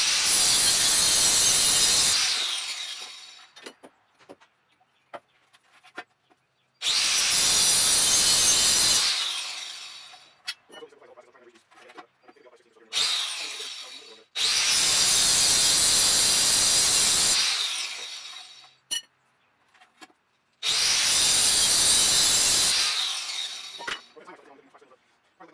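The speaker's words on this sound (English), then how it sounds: "Got my grinder. It's got the rigid diamond blade meant to cut steel or metal." Angle grinder with a diamond blade cutting a steel deck railing. Four loud, harsh, hissing cutting bursts of a few seconds each are separated by quiet gaps with light clinks and handling noises.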